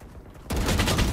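Rapid gunfire from the video game Valorant erupts suddenly after a quiet moment and continues as a dense, loud burst of shots to the end.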